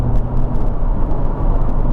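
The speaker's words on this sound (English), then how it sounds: "And that's this exhaust, this set of cannons strapped to the back of this car that they try and pretend are exhaust pipes" A Jaguar F-Type sports car's exhaust roaring inside a road tunnel in North Wales, a loud, steady, dense rumble that fills the whole stretch without a break and with no voices.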